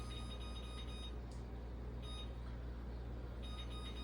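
A kitchen timer is set for baking cinnamon rolls, giving faint, short electronic beeps in a few brief groups over a constant low hum.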